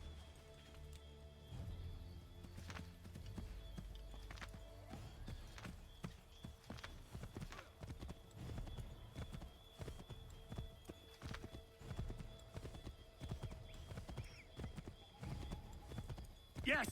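Horse hooves clip-clop steadily in the video game Assassin's Creed 3, with a brief whinny and light rain-like ambience underneath, while speech plays over the game sounds.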